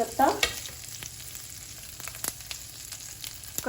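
Curry leaves and chopped green chillies dropped into hot oil with frying spices and ginger, a sharp burst of sizzling at first settling into a steady crackle with occasional spoon clinks.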